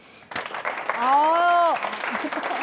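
Applause from a crowd breaks out after a brief pause, with a person's voice rising in a drawn-out exclamation over the clapping.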